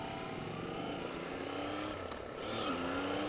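Yamaha XSR 900 motorcycle with upgraded suspension accelerating hard, a steady loud engine drone climbing in pitch, briefly easing then rising again near the end, with wind noise throughout.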